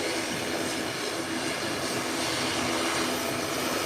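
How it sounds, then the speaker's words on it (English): A Twin Otter turboprop taxiing toward the runway produces a steady, loud engine roar and propeller whine that holds unbroken throughout, heard outdoors at an airfield. "The other Twin Otter is being taxied to the runway."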